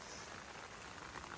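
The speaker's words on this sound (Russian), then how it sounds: "Будем надеяться, дождь сейчас закончится," Rain falls steadily at a mountain campsite, a soft, even patter of drops on a surface with no voices.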